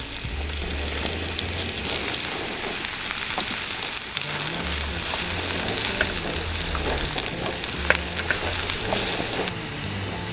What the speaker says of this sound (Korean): 기름을 살짝 불러주시고 파기름을 낼 거예요